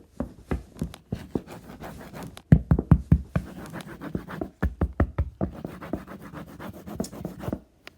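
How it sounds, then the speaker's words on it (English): Hard scratching on a door, like long nails, rasping in repeated strokes and taps that grow louder and more insistent midway, close by in a quiet room at night. "it was like hard scratching, like something with nails"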